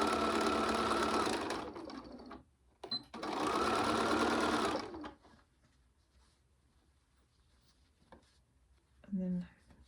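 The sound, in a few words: sewing machine stitching across bottom of drawstring bag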